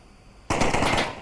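Close, loud burst of gunfire in the VR shooter Onward during a competitive match, breaking in sharply after a quiet moment and continuing as rapid overlapping shots, heard alone.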